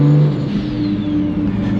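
A BMW 135 with an N54 engine rumbles and revs loudly at close range, a steady low drone with a rising whine, no talking.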